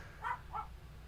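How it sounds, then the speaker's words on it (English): A dog gives two quick barks at a cat, moderately close, over a low background rumble. "now he's barking at a cat."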